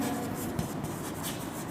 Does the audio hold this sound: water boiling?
no